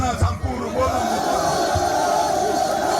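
A packed crowd roars at a political rally in Lumumba stadium, a dense sustained din of cheering and shouting voices with a few whoops, heard at a distance under a steady broadcast.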